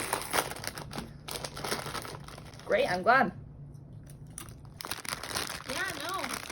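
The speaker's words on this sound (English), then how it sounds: "Don't open a bag of food and obnoxiously chew it" A plastic food bag is crinkled and rustled open in short, sharp bursts beside a close voice during a one-on-one meeting, with a brief spoken reply between the crackling handling noises.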